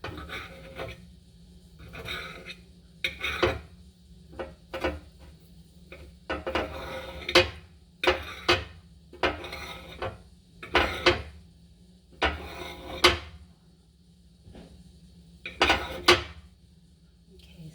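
Potatoes sliced thin with a knife on a board, a steady series of crisp chopping knocks, roughly one every second, close and moderately loud with brief pauses between strokes.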